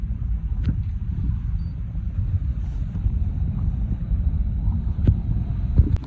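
Steady wind buffets the microphone aboard a sailing yacht leaving Jolly Harbour in about 12 knots of breeze. The low rumble is constant and moderately loud, with hull and water noise underneath and occasional faint knocks.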